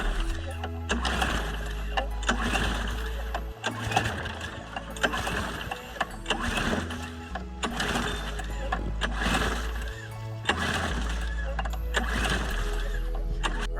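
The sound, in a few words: failed attempt to start a lawn mower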